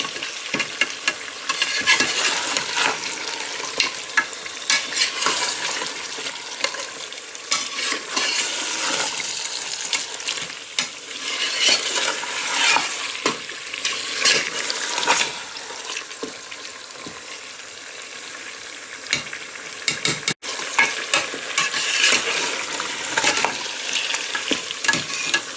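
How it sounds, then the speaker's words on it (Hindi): Mutton stirred and fried with spices in a pot, a steady loud sizzle with constant scraping and clinking of the spoon running throughout, no voices. "हमें ऐसे भूनते जाना है।"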